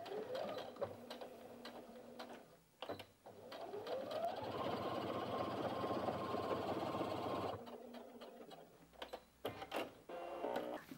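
A Brother Innov-is F420 sewing machine stitches through doubled-over denim in a steady mechanical whir, with rattling handling and clicks before and after the continuous run.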